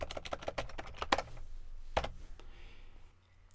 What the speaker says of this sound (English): I could type in front-end JavaScript